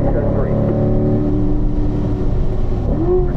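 A Corvette at a performance driving school accelerates on a track, its engine droning steadily and climbing in pitch near the end, heard from close inside the car.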